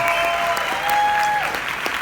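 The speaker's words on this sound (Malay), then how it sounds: "Jadi tepukan untuk anda semua sebab kita dapat bersama-sama pada hari ini." An audience claps together at a talk, a dense, steady round of applause that holds for the whole short stretch.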